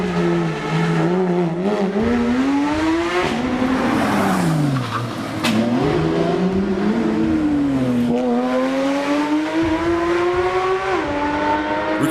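Exotic sports cars race at top speed through a quiet Beverly Hills neighborhood, loud engines revving and rising in pitch through repeated gear changes, with sustained roaring passes and faint tire squeal, no talk.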